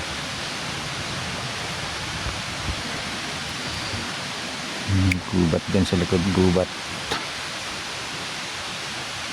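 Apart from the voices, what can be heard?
water flowing from small waterfalls and streams in a forest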